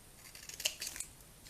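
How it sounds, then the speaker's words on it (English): Scissors snip a piece of paper off a pop-up card, giving a few quiet, close, crisp cutting clicks in quick succession. "So we are going to cut one piece off."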